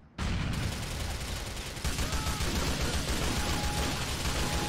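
Gunfire in Grand Theft Auto IV: The Lost and Damned during a prison break, dense sustained bursts of automatic shots that pause briefly, then return loud and continuous.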